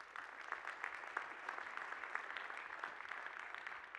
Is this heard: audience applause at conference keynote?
yes